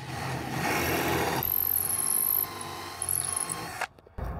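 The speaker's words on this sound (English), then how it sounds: "We're just gonna drill this out." Power drill with a 5/16 bit boring out a stripped hole, a close steady motor whine and grinding bite lasting a few seconds before it spins down and stops.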